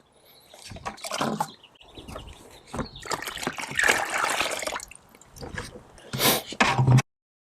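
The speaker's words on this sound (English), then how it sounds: "that's actually going to take the water down to those lower trays." Water trickles and splashes down through a five-tier Greenstalk planter tower, uneven gurgling and dribbling bursts close by, ending abruptly.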